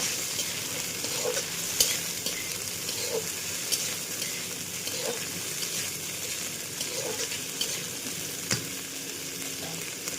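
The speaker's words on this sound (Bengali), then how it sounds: "সবজিগুলো ভাজা ভাজা হয়ে গেলে তখন মশলাটা দিই।" Vegetables sizzle steadily in a pan close by, with a spatula scraping and clinking against the metal every couple of seconds as they are stirred, and no voices.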